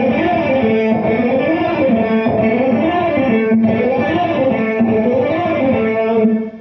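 A loud, distorted electric guitar plays a fast lick with double picking and accents on the second string. A steady stream of rapid picked notes rises and falls in a repeating wavy pattern with no pauses, alone for about six seconds.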